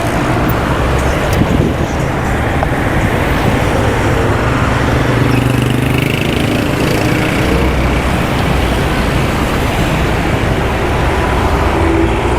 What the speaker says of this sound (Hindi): ट्रैफिक बहुत ज़्यादा है, शाम का समय है तो ट्रैफिक बहुत ज़्यादा है।